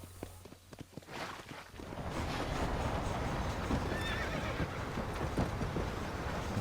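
In the Red Dead Redemption video game, a horse whinnies loudly, then steady clip-clop hoofbeats carry on at a run, with wind and ambient game sound underneath.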